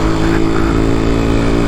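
Yamaha RX 100 two-stroke motorcycle engine running close by, a loud continuous buzzing drone with steady throb, heard alone in a short burst.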